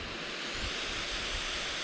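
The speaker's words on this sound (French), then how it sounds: "La belle petite vasque et sa cascade." A small waterfall cascades into a rock pool in a deep, narrow gorge, giving a steady, even rush of falling water with no break or voices.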